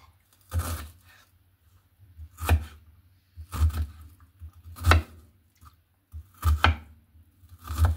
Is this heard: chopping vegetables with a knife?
yes